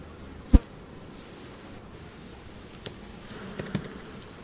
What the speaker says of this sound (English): The bees are starting to backfill some of these cells up here with honey.